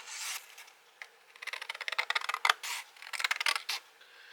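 Scissors snipping through paper in a series of quick, close crisp cuts, with short pauses between bursts.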